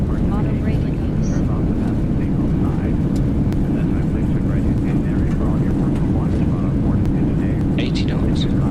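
Boeing 737 landing rollout, a heavy steady roar of thrust reverse and autobrake on the runway that rumbles continuously at close range, with cockpit voices calling out over it.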